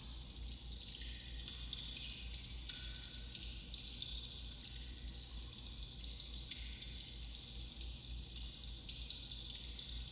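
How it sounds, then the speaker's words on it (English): Water drips and trickles in an echoey cave, a faint continuous wash of liquid sound with scattered soft drops, distant and without voices. "Some like water drops."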